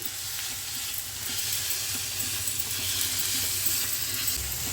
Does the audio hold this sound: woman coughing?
no